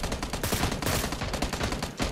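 Rapid automatic gunfire from the video game PUBG NewState in third-person mode crackles in dense, loud bursts of repeated shots, with brief gaps between volleys.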